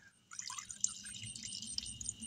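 Brown, sediment-laden water drains from a water heater, pouring and trickling steadily at close range with faint splashes and drips, quiet throughout.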